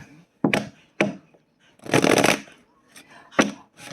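A tarot card deck being shuffled by hand nearby, with several sharp individual card slaps and one longer riffling burst in the middle, separated by short quiet gaps.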